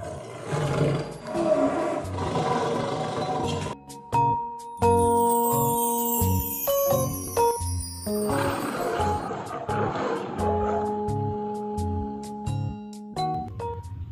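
A tiger roars repeatedly in deep, rumbling growls among bright chiming musical tones in a children's animal-sounds piece, the calls loud and close.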